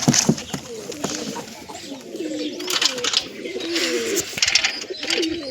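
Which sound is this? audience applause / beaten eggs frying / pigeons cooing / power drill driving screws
pigeons cooing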